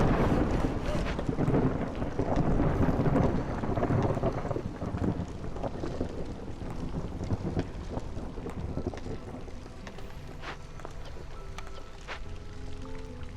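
A thunderstorm in the video game Against the Storm, with a heavy, continuous roar of rain and wind and low rumbling thunder that swells early and then eases into a steadier wash.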